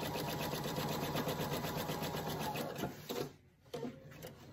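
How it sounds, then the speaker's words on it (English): Quilt block pieces run through a sewing machine in a chain, a rapid steady mechanical whirr close up that stops near the end, followed by a brief gap and a short restart. "now that I've chain sewed these through, I want to leave them all together"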